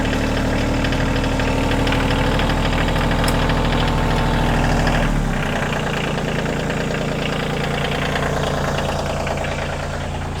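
A tractor engine idles with a steady low rumble and rhythmic knock, then the tone drops partway through as it settles into a lower idle.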